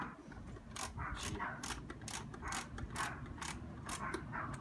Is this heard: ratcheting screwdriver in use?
yes